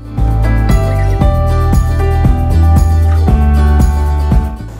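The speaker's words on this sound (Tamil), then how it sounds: "ஃபோன் இப்போது பூட் ஆகிடுச்சு." A Samsung Galaxy Z Fold4 foldable phone plays its boot-up chime: a loud, bright melodic jingle of rising and overlapping tones lasting several seconds, heard alone without speech.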